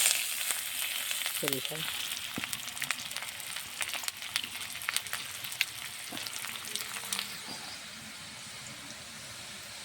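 Chopped onions hit hot oil and fry with a steady broadband sizzle, joined by occasional scrapes and clinks of a utensil in the pan and a brief voice.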